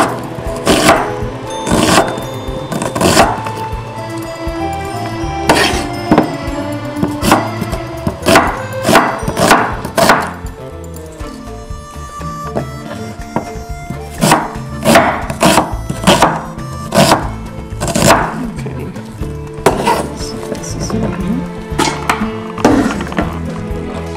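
A knife chops food on a cutting board in steady bursts of sharp, close, loud knocks. Short pauses break up runs of rapid strokes.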